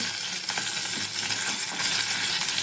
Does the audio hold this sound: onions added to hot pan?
yes